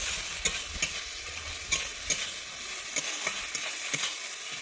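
Tomatoes fry with turmeric and salt for a rohu fish and potato curry, with a soft steady sizzle broken by regular, distinct spatula scrapes roughly every half second.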